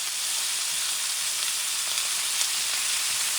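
Butter sizzles steadily in a hot pan beside a steak, a loud, even frying hiss that holds without a break from start to finish.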